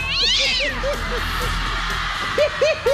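A person imitates a cat meowing in a TV studio setting, giving a string of short rising meow-like calls, several clustered early and a louder run of three near the end, over background chatter and noise.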